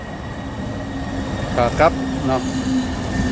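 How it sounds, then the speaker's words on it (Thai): A city train passes in the USA with a continuous low rumble and rolling wheel noise, while someone speaks briefly over it. "นี่รถไฟมาอีกแล้วพี่น้องนี่ขากลับ"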